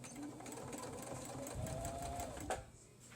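A sewing machine stitches a quilt with a soft, rapid whirring rhythm, fairly quiet and close, with a brief knock near the end.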